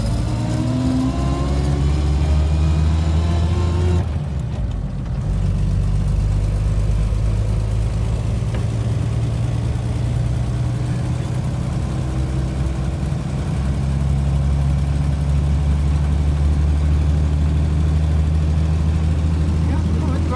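A 1930 Nash 420 Standard Sedan's engine runs on steadily with a low hum, briefly dipping and rising again partway, as the antique car drives along; voices are faintly present under the engine.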